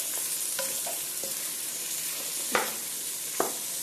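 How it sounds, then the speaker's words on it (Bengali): Pointed gourd (potol) frying with spices in a pan, a steady sizzle under occasional stirring scrapes and two sharper utensil knocks near the end. "একটু নাড়িয়ে আমি ঢাকাটা দিই।"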